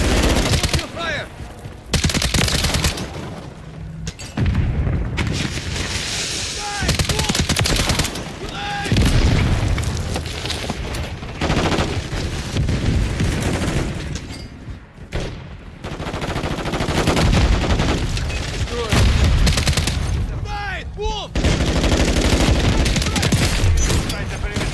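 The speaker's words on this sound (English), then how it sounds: "Hostile airstrike near your location." Call of Duty match audio packed with rapid automatic gunfire bursts and heavy booms from an airstrike, loud and dense with brief gaps between volleys, as short game voice callouts sound through.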